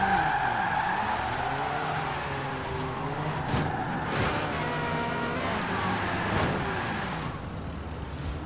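Cars race and skid in the video game Forza Horizon 4. Engines rev up and down and tires squeal in several bursts, with traffic passing close by and no voices.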